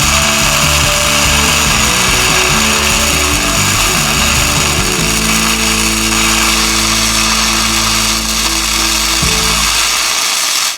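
A weld bead laid on a Jeep Cherokee XJ unibody rear frame stiffener: a loud, close, continuous buzzing crackle holding steady for about eleven seconds before cutting off abruptly.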